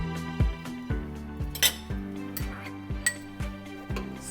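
A spoon stirs tomato paste into a pot of Greek lentil soup, striking the pot in regular metallic clinks about twice a second, close up and alone.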